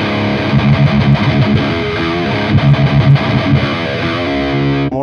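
A heavily distorted electric guitar played through an ENGL e530 preamp and e840 power amp rack rig chugs through loud, rhythmic palm-muted riffs, then cuts off abruptly near the end.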